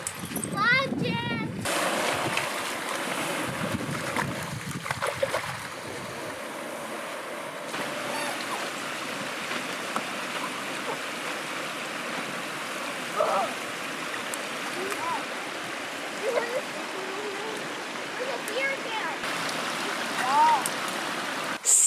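River stream flowing steadily around someone wading through the water, a constant broadband rush with splashing in the first seconds, and a voice speaking briefly near the start.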